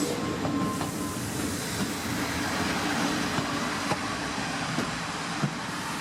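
A suburban train in Naples rolls past at close range, a loud, steady rumble and rattle of wheels on track with occasional clicks from the rail joints.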